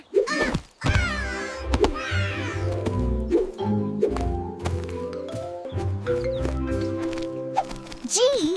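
A fisher cat gives a series of harsh, wailing yowls and caterwauling cries, loud and close, rising and falling over several seconds with brief thumps between calls.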